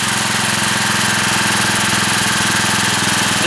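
A small generator engine driven by a wood stove runs steadily and loudly for the whole stretch, with an even mid-pitched drone and a fine rhythmic pulse and no talking.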